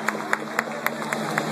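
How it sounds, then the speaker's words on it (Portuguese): Audience at a tribute band show clapping for the bassist, sparse separate hand claps at a steady pulse roughly every quarter second over a constant hum of the room and a low steady tone. "Palmas para esse grande cara aqui"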